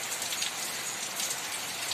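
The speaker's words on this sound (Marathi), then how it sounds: "शांत पाऊस पडतोय, पण चांगला पडतोय।" Steady monsoon rain falls in a dense, even hiss of drops on surfaces, constant and fairly loud with no voices.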